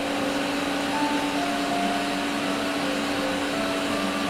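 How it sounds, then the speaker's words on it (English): A vacuum cleaner runs steadily with a loud, continuous motor whine and broadband rushing noise, with faint tonal hums layered on top throughout. "The vacuum cleaner singing Santa Claus is coming to town."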